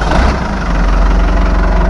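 A tractor engine idles steadily while warming up, a loud, close, low rumbling drone that holds even without any voices.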